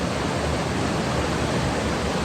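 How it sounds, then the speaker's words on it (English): Steady rushing water of a mountain stream on a Great Smoky Mountains trail near Chimney Tops, a continuous broadband wash with no breaks, fairly loud and close. "And hearing the water, it's really soothing."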